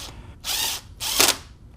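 A power tool drives a 10mm bolt during alternator replacement on a 2002-2006 MINI Cooper S, giving two short, loud whirring bursts close by, separated by a brief pause.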